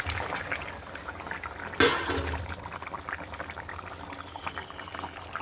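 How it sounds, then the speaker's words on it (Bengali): Fish goes into a simmering curry with potatoes: a sudden splashing burst near the start, followed by steady bubbling and faint liquid noise. "মাছগুলো দিয়ে দিলাম"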